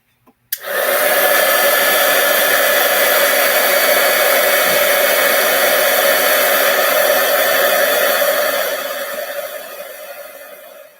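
An embossing heat tool warms embossing powder on a handmade card, starting with a click and then giving a steady, loud blowing whoosh that holds for several seconds before gradually easing off.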